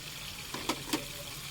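Chicken frying in a pan with garlic ginger paste gives a steady soft sizzle, broken by a few brief clinks of stirring, fairly quiet and with no voices.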